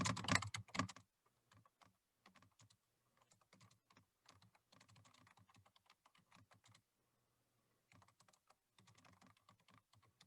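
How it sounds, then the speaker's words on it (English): Bursts of typing on a computer keyboard, with quick clustered keystrokes separated by short pauses and a brief louder clatter at the start, close and clear with no talking. "So I'm going to type that in."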